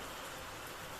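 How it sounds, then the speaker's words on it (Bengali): Rain falling steadily outdoors, a dense, even wash of noise with no breaks or voices over one second. "বৃষ্টি হচ্ছে"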